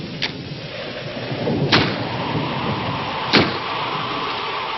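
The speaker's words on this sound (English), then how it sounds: "That's just the wind banging a door." Three dull thuds of a door knocking in its frame, spaced a couple of seconds apart, over a steady roar of wind.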